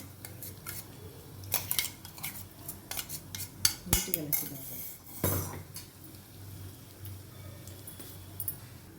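A spoon mixes curry leaf powder into cooked rice in a pan with the stove off, producing irregular sharp metal clinks and scrapes against the pan, close and moderately loud.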